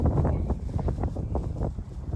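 Wind blows outdoors around a peacock enclosure under construction, buffeting the microphone in low rumbling gusts that rise and fall for a couple of seconds with no one speaking.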